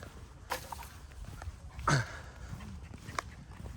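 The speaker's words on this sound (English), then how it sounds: "Oh, look at the puppies." Puppies give a few brief, faint yelps and whimpers amid shuffling, footstep-like rustle, with one louder burst near the middle.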